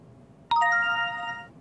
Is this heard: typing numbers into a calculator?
no